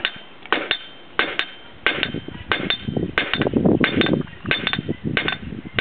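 Repeated metallic hammer strikes on hot metal being flattened into a leaf shape ring out in irregular bursts, some close together, with clinks and scraping between blows; no one speaks.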